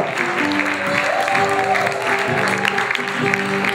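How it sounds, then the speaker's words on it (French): Audience applause at a tenth anniversary community celebration, steady clapping heard alongside sustained musical tones throughout. "On applaudit pour ces 10 années de bonheur, de partage, de participation citoyenne."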